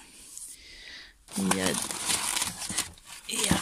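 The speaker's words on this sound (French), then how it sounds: "on va l'ouvrir. J'ai pris la petite paire de ciseaux." Cardboard box being opened with small scissors: crinkling, scraping and tearing of cardboard in close, irregular bursts, with a voice talking over much of it.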